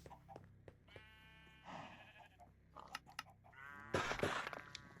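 Goat bleats from a game in the Minecraft Stone Block 4 modpack, several short wavering cries spaced across the moment, the loudest near the end, over a faint background hum.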